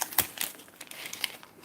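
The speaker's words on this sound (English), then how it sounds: "Okay, peeling it off now." Protective film being peeled off a perspex sheet gives close, crinkly crackles and a few sharp tearing snaps in short irregular bursts over about a second and a half, with no voices.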